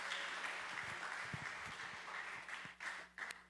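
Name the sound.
applause for the children in church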